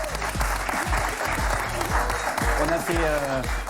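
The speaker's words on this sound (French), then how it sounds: "Vous pouvez les applaudir." Studio audience claps through a broadcast segment, a full steady round of applause running under a presenter's lively speech throughout.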